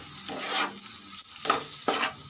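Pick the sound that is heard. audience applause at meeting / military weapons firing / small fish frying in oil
small fish frying in oil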